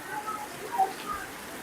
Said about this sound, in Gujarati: જો કેવો વરસાદ છે અહીં સુરતમાં